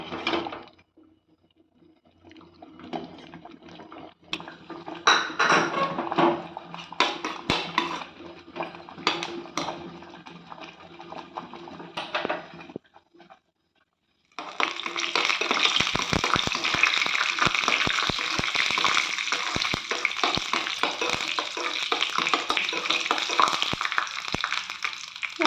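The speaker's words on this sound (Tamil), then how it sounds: "நம்ம இந்த டைமில் முந்திரி திராட்சை வறுத்து இதில் சேர்த்திக்கலாம்" Cashews and raisins roasting in a pan for milk semiya payasam, with intermittent clinks and scraping early on, then a continuous loud sizzle after a brief pause.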